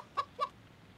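Two quick clucks from a chicken in the video game MediEvil, fairly close and clear, with a short gap between them and quiet background after.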